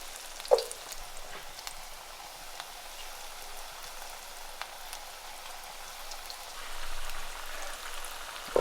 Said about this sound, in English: So guys, we got these frying like this.